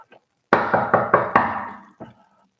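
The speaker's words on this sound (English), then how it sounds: "I knocked at her mama door." A series of firm knocks on a door, one sharp rap followed by a quick run of four loud knocks and a single softer knock after a pause, close and with no talking.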